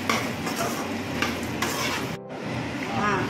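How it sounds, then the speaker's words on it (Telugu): Dried red chillies fry in hot oil in a pan for a homemade curry leaf powder, giving a steady close sizzle with scraping stir strokes and light utensil clatter, then a brief dip before the sizzling resumes. "ఎండుమిరపకాయలు బ్రౌన్ కలర్ బాగా ఎర్రగా వచ్చేదాకా వేయించుకోవాలి."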